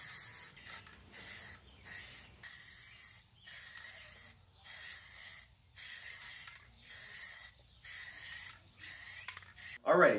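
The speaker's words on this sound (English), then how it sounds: "Time to hit it with some black spray paint." Repeated short hissing bursts from a can of black spray paint onto a wooden sign, about ten evenly spaced sprays with brief gaps between them, close by.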